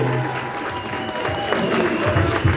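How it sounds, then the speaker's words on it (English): Audience applause at a Texas Frightmare horror convention Q&A for actor Bill Moseley, a steady wash of many hands clapping with crowd noise throughout, with a few louder bursts near the end. "big Texas round of applause for Bill Moseley"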